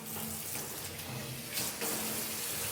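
Hot water runs steadily from a tap into a large tub in a pottery studio, a continuous close rushing splash with slight shifts in flow.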